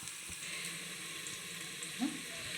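Onions fry in a hot pan for a Tamil lunchbox dish, giving off a steady, even sizzle with a brief soft stir near the end.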